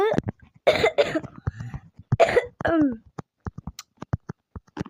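Someone who is sick, playing a Bedwars game, coughs in several harsh, throaty bursts mixed with speech, followed by sharp clicks of keys or a mouse.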